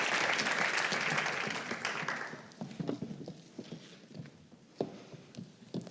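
An audience applauds at an environmental awards ceremony, a loud burst of clapping that fades after about two seconds into scattered claps and room noise.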